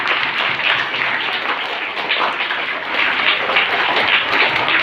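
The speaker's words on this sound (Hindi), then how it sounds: "तो सब बच्चे इनके लिए तालियां बजाइए" Steady, dense applause from a room of schoolchildren at an assembly addressed by their principal, a continuous wash of many hands clapping with no voices over it.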